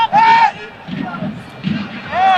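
Rayon Sport football fans ululate in high, wavering trills that rise over the crowd, with a burst at the start and another near the end and a babble of cheering and voices between them.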